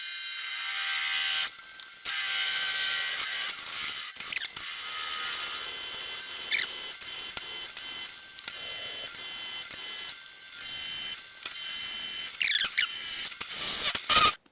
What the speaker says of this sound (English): I'll drill that one by hand